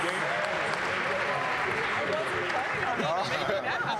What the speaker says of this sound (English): give them a round of applause as they make their exit